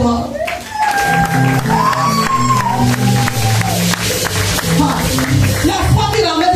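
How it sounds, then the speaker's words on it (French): A church congregation claps and cheers during a worship service, a loud, dense crowd of clapping and shouting voices with a sustained musical tone running underneath throughout. "Applaudissez d'abord."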